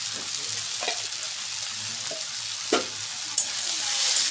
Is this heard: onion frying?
yes